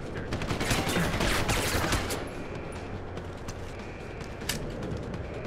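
Gunfire in the video game Deus Ex: Human Revolution, including incoming sniper shots, rattles as a dense burst of shots in the first two seconds, then settles into a lower, steady wash of combat noise with one more sharp crack near the end.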